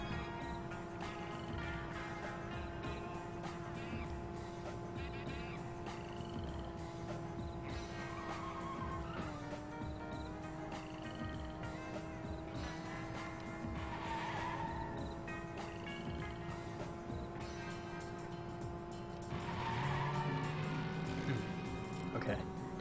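A race car in the video game Cruis'n World drives steadily, its engine holding a constant droning pitch that dips once midway, with tire squeal and skidding layered over it and a surge of noise near the end.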